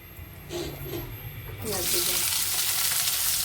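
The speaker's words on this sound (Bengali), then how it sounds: "পেঁয়াজ কিছু দিয়ে দিচ্ছে আম্মা জিরা ভাজা হয়ে গেছে" Cumin and onion frying in a home kitchen pan, a quiet start with a few faint sounds, then a loud steady sizzle hissing continuously once the onion goes in.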